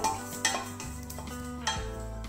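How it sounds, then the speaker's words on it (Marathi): Ajwain (carom seeds) dry-roasting in a pan over a gas flame, with a spoon scraping and clinking against the metal in irregular strokes, close up and fairly quiet, with no one talking. "आता आपण ओवा भाजून घेऊया"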